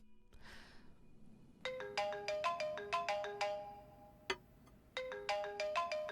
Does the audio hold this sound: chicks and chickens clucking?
no